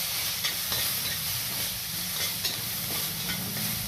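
A finely chopped onion fries in a pan for Bombay masala cheese toast, giving a steady, moderate hiss. Faint stirring scrapes break the sizzle now and then, and no voices are heard.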